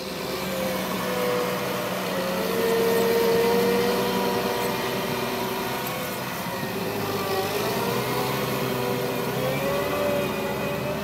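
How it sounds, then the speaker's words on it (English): A Challenger 700 Series tracked tractor working a field ahead of potato planting, its engine giving a steady, moderately loud drone that swells slightly and holds throughout, with no talking. "a Challenger is being used to fluff up land ahead of potato planting"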